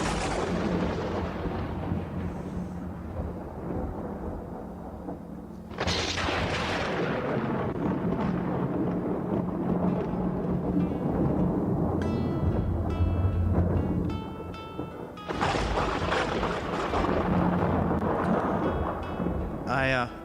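A thunderstorm outside, with sharp thunder cracks at the start and twice more that roll into long rumbles, over a steady wash of rain, with a voice speaking in the background.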